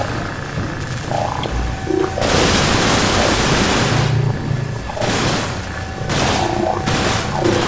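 Gunfire in the roguelike video game Cryptark comes as dense, noisy bursts of shots and booms that keep returning, loud and close, with no talking.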